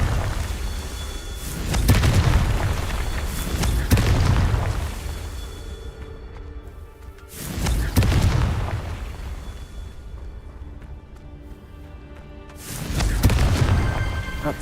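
Booming blasts from the Confringo blasting spell in the Hogwarts Legacy video game, three heavy bursts spaced a few seconds apart, each with a long rumbling tail.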